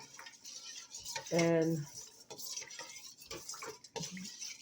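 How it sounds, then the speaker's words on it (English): A spoon stirs yeast into water in a bowl, giving soft scraping and a few light clinks at close range, with a voice speaking briefly over it. "And I just stir it up"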